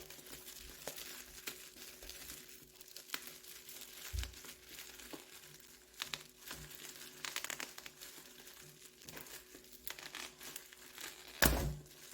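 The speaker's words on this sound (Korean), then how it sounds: "일단 여기 입구가 여기여서 여기를 한번 뜯어볼게요" Packaging of a Re-ment miniature bakery shop toy box being torn open, quiet crinkling and rustling of paper and plastic with scattered small rips and a sharper crackle near the end, close up with no talking.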